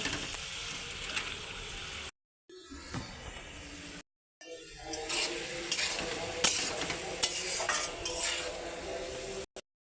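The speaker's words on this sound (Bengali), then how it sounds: "কষাতে কষাতে আমি আরও একটু ভালো করে কষিয়ে নেব।" Yardlong beans, potato and rohu fish masala are stir-fried in a pan, with a spatula scraping and clinking against the metal over a steady sizzle, broken by two brief silent gaps.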